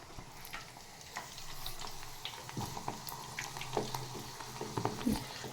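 Aloe vera pieces frying in a little oil over low heat, giving a soft bubbling sizzle with scattered pops and occasional scraping clicks, fairly quiet and steady with no talk.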